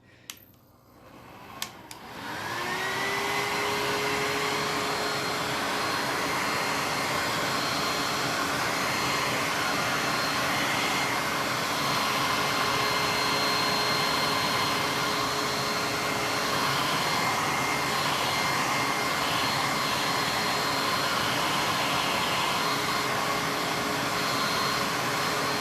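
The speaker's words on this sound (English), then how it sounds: "I know the loud blow dryer is coming back," A loud hair dryer whirs up after a brief start and blows steadily at close range, a constant rushing roar with a faint whine throughout.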